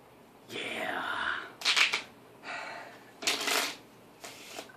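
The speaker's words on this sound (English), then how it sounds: "I love the sound of shuffling cards" Playing cards being shuffled at a card game table, several riffle bursts of crisp fluttering rattles separated by short pauses, close and moderately loud.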